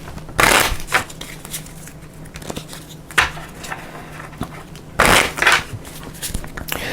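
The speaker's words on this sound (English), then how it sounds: "So let me give this a quick shuffle." Cards from the Dungeon Degenerates board game are shuffled by hand in short papery riffles and clattering bursts at irregular intervals, close up and with no talking.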